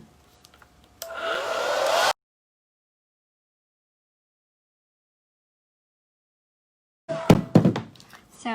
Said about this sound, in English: So I'm going to try to dry this with a hair dryer.